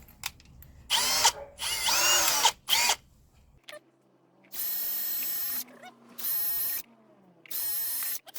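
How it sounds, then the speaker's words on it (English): A cordless power drill fitted with a wood-type bit boring into a plastic splash guard, running in a series of loud whirring bursts of one to two seconds with short pauses between. "Because I'm drilling the plastic, I use the wood type drill bit"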